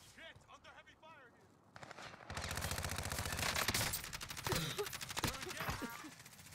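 Heavy video game gunfire erupts in dense, rapid automatic bursts that grow loud and sustained after a brief quieter stretch with a voice at the start.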